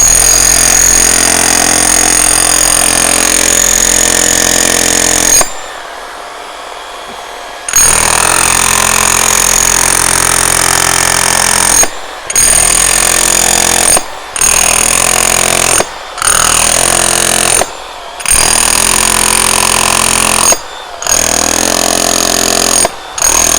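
An SDS Max power tool fitted as a compactor runs at maximum power, a loud, harsh, continuous hammering rattle cut by about seven short pauses, one longer stop near the start, with no talking.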